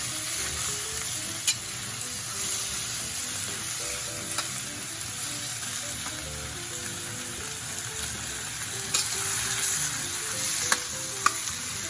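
Taiwanese three cup chicken sizzles and spits in a pan over high heat, a steady loud frying hiss with occasional clicks and pops as it cooks.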